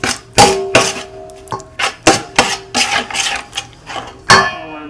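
Chaat masala and spices being worked into a thick paste with a spoon in a metal bowl, giving sharp clinking scrapes and knocks in an uneven rhythm, close and fairly loud.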